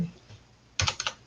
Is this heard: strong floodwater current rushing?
no